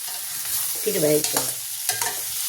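A spoon stirs green banana dry sabzi seasoned with salt and turmeric in a pan. Scraping strokes pass through the sizzling food close up, with a couple of distinct stirring passes over a steady frying hiss.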